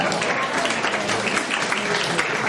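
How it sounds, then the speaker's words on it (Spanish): A church congregation applauds its pastor, a dense, even wash of many hands clapping at close range that holds steady the whole time, with some voices mixed into the crowd. "¿Y no hay aplauso para el pastor?"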